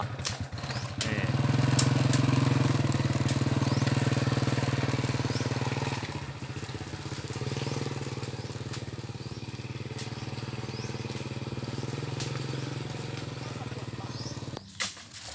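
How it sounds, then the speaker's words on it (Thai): A motorized three-wheeler drives across a durian orchard, its engine a steady close rumble that is loudest early on and then settles to a constant drone, with brief voices under the motor. "เดี๋ยวไป กับพาหนะพิเศษเลยครับ สามล้อ"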